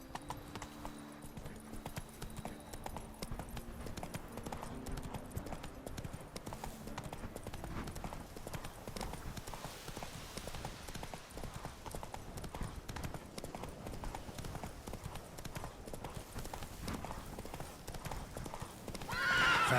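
Horse galloping in The Witcher 3, rhythmic hoofbeats in a steady, continuous clip-clop, fairly faint, with a brief whinny and a burst of rushing noise at the close.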